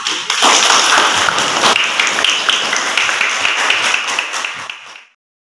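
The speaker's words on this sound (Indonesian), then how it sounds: "Oke, jadi tepuk tangan untuk kita semua." A classroom group claps together at the end of a lesson, giving loud, close, dense applause with sharp individual claps that continues for about five seconds before stopping abruptly.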